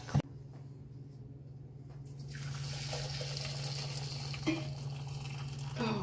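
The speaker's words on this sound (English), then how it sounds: "Pouring the boiling water in there." Boiling water pours steadily into canning jars of cut dragon tongue beans, a soft continuous liquid rush with a steady low hum underneath and a couple of faint knocks.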